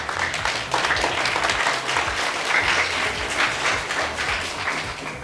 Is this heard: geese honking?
no